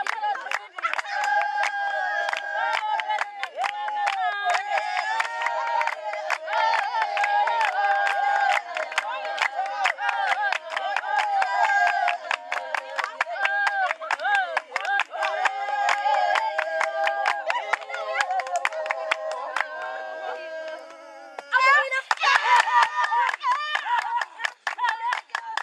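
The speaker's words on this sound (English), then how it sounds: "a traditional dance of the Vatwas, accompanied only by singing and hand clapping" Continuous rhythmic hand clapping with group singing accompanies a traditional Vatwa dance in Namibia, steady and dense throughout with crowd voices, briefly dipping near the end before picking up again.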